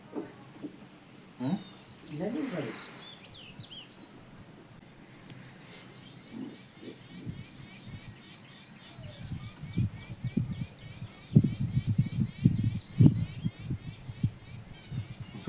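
Sparrows chirp in quick, thin repeated bursts, scattered through the clip over low background noise and occasional soft thumps.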